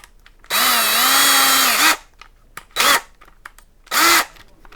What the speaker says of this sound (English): Just like the old days, a little bit of drilling.